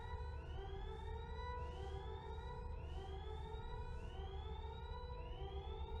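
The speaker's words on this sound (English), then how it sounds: "While you're in space, your alarms start blaring." Spaceship alarms blare in the sci-fi game Event[0], a steady repeating electronic siren with rising sweeps cycling about every second and a half, continuous and moderately quiet with no talking.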